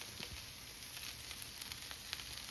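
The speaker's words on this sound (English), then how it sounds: "add the cabbage to the pan" Chopped green cabbage and onion sautéing in a frying pan, seasoned with salt, pepper and red paprika, give a soft, steady sizzling hiss that stays faint and even, with no talking.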